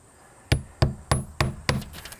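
Hammer striking nails through vinyl siding trim, five sharp, evenly spaced blows about a third of a second apart, close and clear with a slight ringing decay and no talking.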